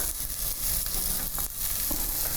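Onion and garlic sizzle steadily in a frying pan, a close, bright hiss of frying with faint crackles and small stirring noises.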